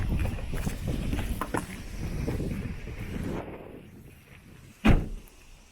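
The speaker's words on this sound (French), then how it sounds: "il y a du vent" Outdoor wind rushing and buffeting against a microphone, a broad steady roar through most of the stretch that eases off near the end, broken by one short loud gust or knock.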